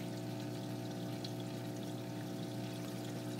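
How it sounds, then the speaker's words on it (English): Water pours steadily into a DIY coil denitrator with its valve wide open, a continuous faint rushing and trickling stream with no breaks. "it's just filling up with water right now"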